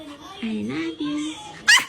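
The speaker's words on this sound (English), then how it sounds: "ranking the top 5 funniest pet dog sound." A pet dog makes a short run of funny, drawn-out whining vocal sounds, then a brief sharp bark-like burst at the end, close and clear with nothing else around it.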